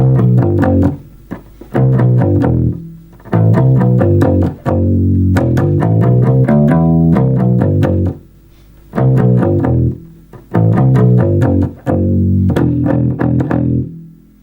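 A bass guitar plays a repeating riff from a song in short phrases separated by brief pauses, plucked notes ringing close and loud.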